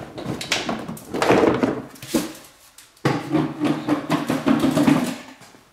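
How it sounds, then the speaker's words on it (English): The tire comes off a plastic Peg Perego John Deere Gator ride-on toy with a series of close hollow thunks and knocks, a brief quiet gap, then more rattling plastic handling. "what we're going to do is take the tire off."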